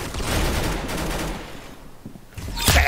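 Gunfire in the Roblox Arsenal shooting game, a loud continuous rattle of rapid shots that eases briefly and then surges again near the end, with no talk.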